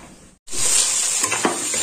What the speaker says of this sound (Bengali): আর এইটা হচ্ছে কষাচ্ছি, শিম আর বেগুন দিয়ে, টমেটো দিয়ে